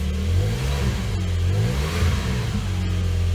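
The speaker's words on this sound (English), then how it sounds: "I'll give it a little rev" A Porsche 911 engine revs loudly and close, a deep throaty roar that swells and holds with no one speaking.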